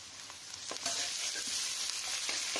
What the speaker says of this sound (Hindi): प्याज बढ़िया भून रही है और इसी में हम हरी मिर्च साथ ही इसमें हरी मिर्च मिलाने के बाद साथ ही इसमें मिलाएंगे अदरक और जो लहसन